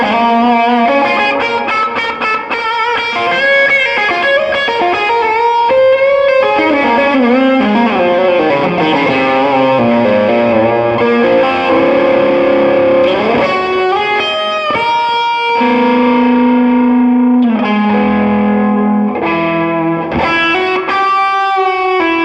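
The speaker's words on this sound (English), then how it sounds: "put a tube screamer on and hear that bridge pickup." An electric guitar, a Fender Masterbuilt Stratocaster on its bridge pickup through a Tube Screamer overdrive, plays sustained chords and melodic bends with a warm, slightly distorted tone, steady and loud throughout with no voices.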